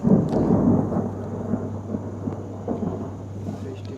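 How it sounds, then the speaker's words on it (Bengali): Steady rain falls with a low rolling rumble of thunder in a Mizoram town near the India-Myanmar border, loudest at the start and fading, with a few light patters throughout. "বৃষ্টি পড়ছে টিপটাপ করে আর মেঘের গর্জন তো শুনছেনি"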